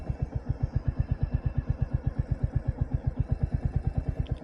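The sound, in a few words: Royal Enfield Hunter 350 motorcycle engine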